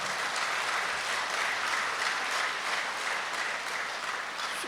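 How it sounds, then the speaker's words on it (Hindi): An audience at a spiritual gathering claps loudly for Baba in a dense, continuous burst of applause that stays even in volume throughout. "बाबा के लिए मेरे जोर से ताली बजाओ।"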